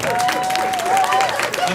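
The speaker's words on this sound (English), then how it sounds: "Let's give them one more round of applause." Crowd applause for finalists at a fan convention, a dense wash of clapping with a voice talking over it throughout.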